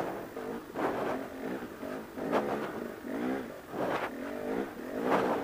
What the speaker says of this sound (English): Apparently my bike doesn't want to do the route.